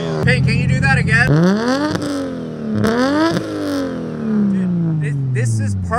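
Nissan S-chassis cars with straight-piped Tomei exhausts rev hard, engine pitch sweeping up and down through several loud, close blips with a raspy tone, while people talk over it.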